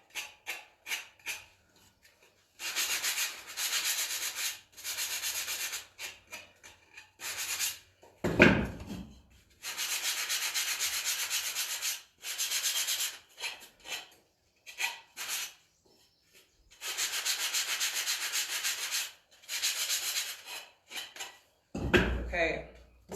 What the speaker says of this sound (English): I'm using a sanding sponge